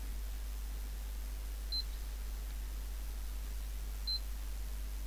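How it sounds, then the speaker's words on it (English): Two short, faint multimeter continuity beeps sound a couple of seconds apart while testing a liquid-damaged HP Pavilion 15 laptop board, over a steady low hum. "I'm getting a little blip. Yeah, I've got continuity"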